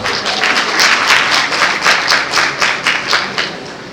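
A convocation ceremony audience claps together in a loud, dense round of applause that swells and then eases slightly toward the end, filling the hall without speech.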